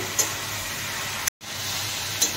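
Eggplant and potato fry in a small amount of oil in a village kitchen, giving a steady, even sizzle close to the mic with one brief dropout.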